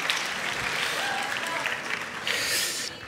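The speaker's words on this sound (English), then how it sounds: "let's go ahead and give the third band another round of applause as well" A school Christmas concert audience applauds a high school band, loud sustained clapping that swells near the end and then begins to fade, with a voice briefly heard over it.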